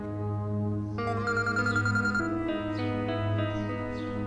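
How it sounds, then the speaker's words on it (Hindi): A phone rings with a melodic electronic ringtone, sounding a steady, repeating pattern of clear tones close by, with no talking over it. "हाँ रीबा, क्या हो गया यार, अभी क्यों फोन कर रहे हो?"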